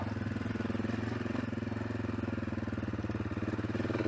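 An AJP PR7 motorcycle engine runs steadily in second gear at low, even revs, a quiet continuous thrum with no voices.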